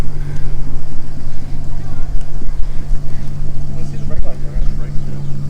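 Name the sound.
1963 Ford Falcon Futura engine revving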